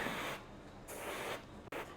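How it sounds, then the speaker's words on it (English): An airbrush spraying black paint onto an HO scale model flat car hisses in short bursts of spray, quiet and close, separated by brief pauses. "I am gonna take the airbrush and spray a little bit of black"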